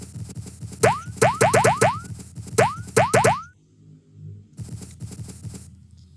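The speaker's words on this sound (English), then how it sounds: "it's going to play that cherry sound effect when we are colliding with our cherries" A platformer video game plays its cherry pickup effect repeatedly, a series of bright rising boing-like chirps in quick bursts over a steady background music track, with a short quiet gap midway.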